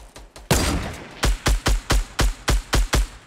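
Gunfire in a video game: one heavy blast opens, then a steady run of about nine evenly spaced, punchy shots fired close and loud in rapid succession.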